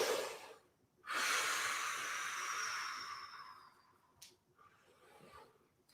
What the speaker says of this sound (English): Breathing and stretching. Just luxuriate in the stretch.